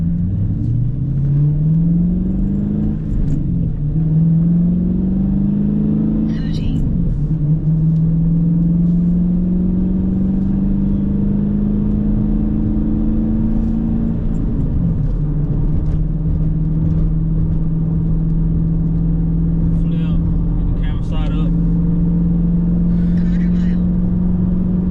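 A Dodge Challenger R/T launches hard on warm tires after an earlier burnout. A deep, loud engine drone rises steadily in pitch through the first gears, then holds a sustained roaring cruise.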